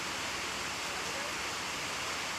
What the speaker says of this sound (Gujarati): ગાજવીજ સાથે ધોધમાર વરસાદની શરૂઆત થઈ છે